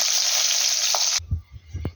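Pabda fish frying in hot oil, heard as a loud, dense sizzle that cuts off abruptly, followed by a few low knocks and clatters.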